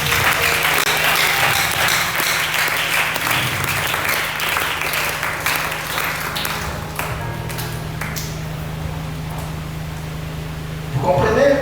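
A church congregation at a Sunday service applauding together, loud sustained clapping close by that gradually thins out and then briefly swells again at the end, with a faint tone ringing underneath.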